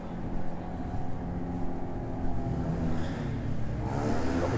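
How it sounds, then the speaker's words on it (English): A supercar engine runs steadily at the beachfront marina of Puerto Banús in Marbella, Spain, a continuous close rumble with slight surges and no talk over it. "You can already hear what sounds like a supercar's engine running."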